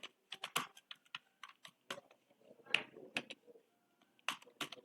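Keystrokes on a computer keyboard while entering text into a shape in MS Word, a quick irregular run of sharp clicks in bursts with short pauses, close and fairly quiet, no talk.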